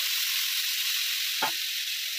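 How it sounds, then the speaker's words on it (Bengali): Potatoes frying in oil in a pan for a Bengali cabbage dish, a steady close hiss of sizzling with a brief soft clatter midway. "আলু ভেজে নিচ্ছি।"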